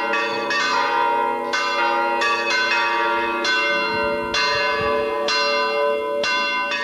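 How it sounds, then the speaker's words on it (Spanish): Church bells peal a concert in an uneven sequence of loud, ringing strikes in Lora del Río, Spain, their tones overlapping and decaying as several bells sound in turn. "También se celebró un singular concierto cuyas notas salieron de las propias campanas"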